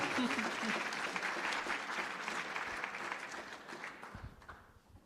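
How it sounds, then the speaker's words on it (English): At an event on Ukrainian-American partnership in education and science, the audience applauds Ambassador McFaul with thick, sustained clapping that gradually thins and fades near the end, with a few low thumps. "Please give a round of applause for Ambassador"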